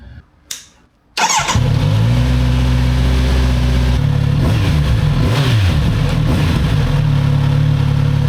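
A Kawasaki Z900RS Cafe motorcycle engine catches after a brief starter whir and settles into a loud, steady idle, close by, with small fluctuations in the engine note.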